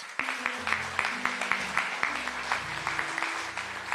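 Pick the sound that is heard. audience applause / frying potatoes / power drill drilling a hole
audience applause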